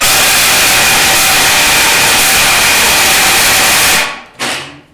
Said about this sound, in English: But take my Sawzall.